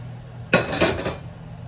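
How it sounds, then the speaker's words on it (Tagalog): A single metallic clank of a utensil against a boiling cooking pot, followed by a brief scraping stir, then quiet room tone. "ihaluin ko muna to"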